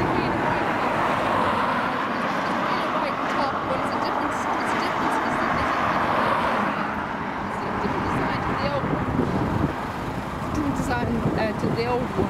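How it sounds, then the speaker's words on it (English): Aer Lingus airliner passing at Dublin Airport, a broad continuous engine roar that stays loud throughout, with people chatting over it. "This is another new model of Aer Lingus."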